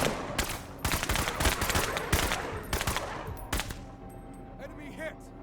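Bursts of gunfire from the tactical video game Menace crack in quick, clustered volleys, loud at first and then thinning out into scattered shots and faint electronic blips toward the end.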